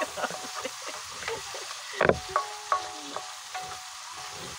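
Chayote and tomatoes frying in a pan while being stirred, giving a steady close sizzle broken by the scrape and clatter of a spoon against the pan.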